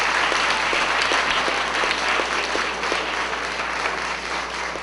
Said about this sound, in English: let's give Miss America another round of applause.